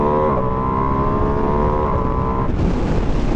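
A new 2025 Ducati Streetfighter V2S motorcycle pulls hard under acceleration, its engine note climbing in a loud, close, continuous roar with heavy wind rush before dropping off near the end.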